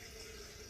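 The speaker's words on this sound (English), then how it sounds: "I'm going to fill this coffee pot" Filtered water pours into a percolator coffee pot, a faint, steady hiss of filling liquid running continuously.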